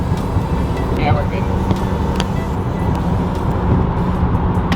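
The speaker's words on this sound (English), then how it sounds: "we're on the highway now" Steady road and engine noise from a car cruising on a highway, a continuous broadband rumble with faint intermittent voices underneath.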